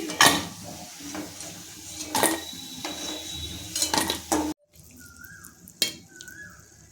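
Frying drumstick-flower fritters are lifted from a hot kadai of oil with a metal spoon, giving sharp clinks and scrapes against the pan over a low sizzle, with a few louder knocks and then quieter bubbling.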